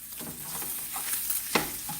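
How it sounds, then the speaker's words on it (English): Steak fat searing in a hot pan, a constant close sizzle with a couple of brief scraping stirs, one sharper clack near the end, no speech. "one of the things I like to do is like sear down the fat"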